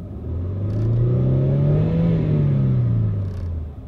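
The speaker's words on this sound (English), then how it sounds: "as you can hear when I rev it up under the engine" An SUV engine with mechanical problems revs up and holds at a higher pitch before easing back down, the tone slightly uneven and rough with a shudder, loud and close.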